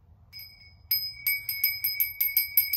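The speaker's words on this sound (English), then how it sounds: "I'm going to ring the bell" A handheld bell rung in a quick series: a single faint tone first, then about eight bright, metallic strikes in a steady rhythm, close and clear, with no talking.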